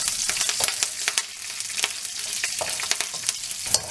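Curry leaves and green chillies crackle and sizzle in hot oil alongside browning chana dal for a Tamil poori masala, a dense, steady spatter of pops and hisses with sharp crackles throughout and no talking.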